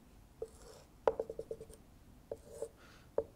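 A pen sketching a graph of the tangent curve on paper during a maths lesson, giving soft scratchy strokes and quick tapping marks in short bursts, close and faint in a quiet room.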